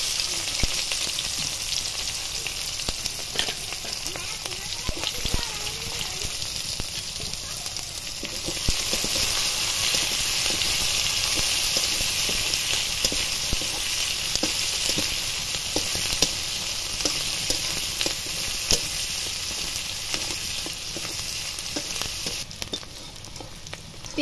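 Chopped onions frying in oil with whole cumin and bay leaves give a steady, loud sizzle and crackle that continues throughout, with occasional stirring noises.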